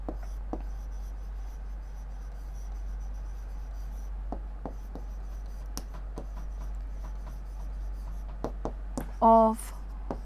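Marker or chalk scraping and tapping against a classroom board, short intermittent strokes close by over a steady low hum, with a brief louder squeak near the end.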